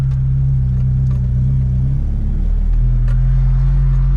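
Nissan truck engine revving hard in four-wheel-drive low range, a loud, close, sustained engine drone whose pitch shifts partway through, with light clatter on top.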